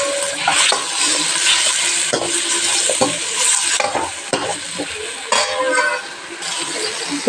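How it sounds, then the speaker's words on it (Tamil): Chicken frying in oil with turmeric for a chicken gravy, a bright, loud sizzle punctuated by repeated clattering stir strokes and clinks of a spoon against the pan, close by. "கொஞ்சம் ஆயில் ஊற்றிக்கலாம். அதில் சிக்கன் சேர்த்துக்கலாம். இதோட மஞ்சள் சேர்த்திடலாம்."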